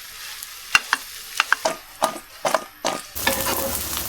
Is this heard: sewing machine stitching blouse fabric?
no